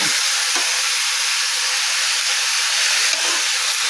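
Vegetables for fried rice fry in a pan with a steady, loud, bright sizzle and hiss, continuous throughout with slight stirring variations and no voices.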